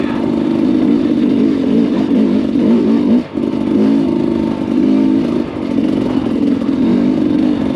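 A motorcycle engine drones loud and steady from the rider's position while the bike is ridden, holding a constant low growl with only a brief dip partway through and no talking.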